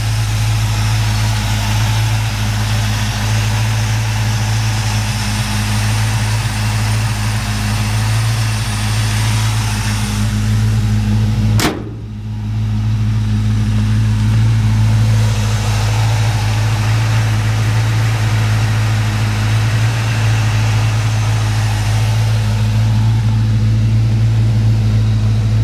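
A 1956 Chevrolet Nomad wagon's V8 idles steadily and loudly up close, a low, even rumble that holds for the whole stretch apart from one sharp knock and a brief dip near the middle.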